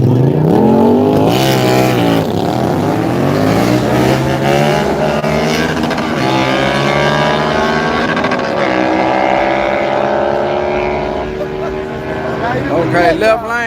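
Motorcycles drag race at night at the Yello Belly Dragstrip, their engines loud and close, revving through repeated rising and falling pitch sweeps, with voices talking underneath.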